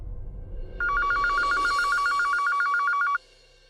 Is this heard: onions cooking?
no